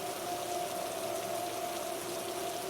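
Heavy rain pouring down as a dense, continuous hiss with a faint steady hum beneath, no voices.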